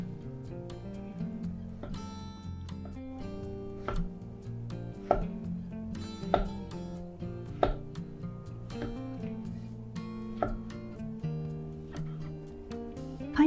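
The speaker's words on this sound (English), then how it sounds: "So 5mm slices, and cut the mushroom." A knife slices mushrooms into 5 mm slices for Japanese Napolitan ketchup spaghetti, making a steady run of crisp, close chopping taps against a board, with soft background music underneath.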